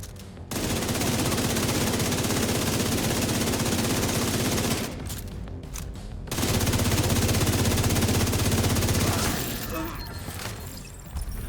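The St. Elmo's Engine legendary rifle fires in a video game, unleashing two long, loud sustained automatic bursts of rapid shots separated by a brief pause, followed by fading echoes and clatter.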